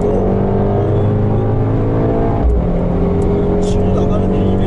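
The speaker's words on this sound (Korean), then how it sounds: "가속 페달 조금만 밟아도" A Mercedes-AMG GT 63 accelerates under light throttle as its engine note drones and rises steadily from inside the cabin, with someone talking over it throughout.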